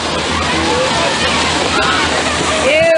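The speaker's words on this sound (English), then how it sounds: "by a tide of briny water" Briny water gushes and sloshes loudly from a blowhole at a Trona, California mine, a continuous foamy rushing close by, with people talking over it.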